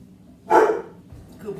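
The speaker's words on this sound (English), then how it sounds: "Coop, what are you barking at?" A house dog gives one short, fairly loud bark nearby in a home kitchen, followed by quieter rustling and faint background sounds.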